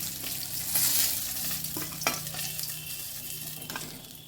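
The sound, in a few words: fish frying in oil until browned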